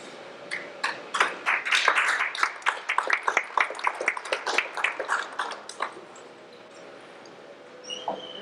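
Audience at a poetry reading applauds after a poem, a dense burst of many hands clapping that swells, then thins into scattered claps and fades to quiet.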